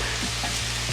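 Onions sizzle and fry steadily in a pan for cheeseburgers, a dense, continuous crackling hiss heard up close with no talking.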